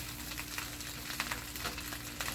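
Chicken fried rice being stirred in a hot pan, a steady sizzle and frying hiss broken by soft scraping and clinking of the spatula against the pan at close range, with no one speaking.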